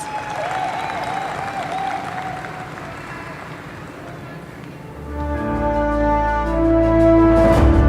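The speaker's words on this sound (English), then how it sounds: "Please give him another lusty round of applause." Sustained audience applause fills a secondary school graduation hall as a steady broad wash of clapping, with music and amplified sound swelling in over the last few seconds.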